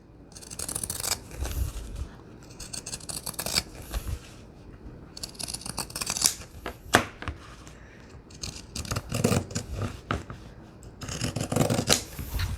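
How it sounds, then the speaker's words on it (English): Scissors trimming through stacked paper and cardboard pages along a line, with repeated close, crisp snips and rustling in irregular bursts and no talking. "Okay, let's trim right on the line."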